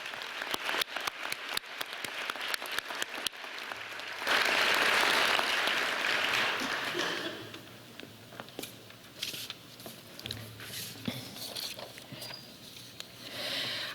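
A commencement crowd at a communication studies graduation applauds graduating students and their parents; scattered claps swell into a loud, dense burst of applause midway, then thin out into lighter clapping.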